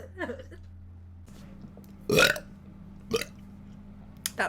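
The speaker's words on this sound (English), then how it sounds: "That burp." A loud burp bursts out alone in a quiet room just past two seconds, followed by a shorter second belch, with faint breathy vocal sounds at the start and a brief noise near the end.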